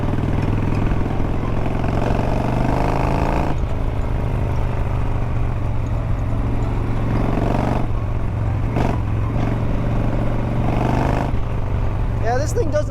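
A stock 80 cubic inch motorcycle engine runs steadily with a low, throbbing rumble, close and loud throughout, with a couple of brief dips in tone.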